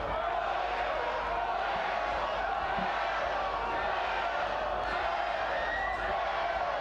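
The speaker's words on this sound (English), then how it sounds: "Being bellowed out by the crowd." A crowd roars at an under-15 schools rugby cup semi-final between QEGS Wakefield and Wirral Grammar School, a continuous distant wash of shouting with a commentator talking over it.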